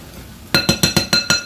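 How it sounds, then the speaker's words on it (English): A metal fork clinks against a dish while mixing curry turkey, six sharp, evenly spaced clinks after a brief quiet start, close and fairly loud. "Let me use my fork. That'll mix it better than the spatula will."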